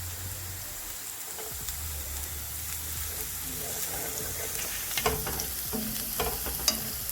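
Garlic sizzling in hot olive oil in a pan, a continuous hissing fry with occasional crackles and small pops that grow slightly busier toward the end, close by.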